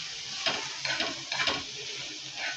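Chopped onions fry and brown in a pan for a spicy Khandeshi chicken curry, a steady close sizzle broken by several scraping stirs in a loose rhythm.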